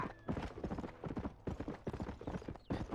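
Horse hooves in Red Dead Redemption, a brisk rhythmic clip-clop of a galloping horse, close and steady, with a short neigh partway through.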